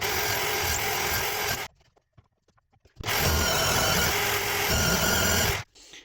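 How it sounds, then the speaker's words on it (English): A drill press bores into wood in two loud, steady whirring bursts of about two seconds each, separated by a short quiet pause with faint clicks, and a final brief quiet gap. "I'm gonna move over to the drill press."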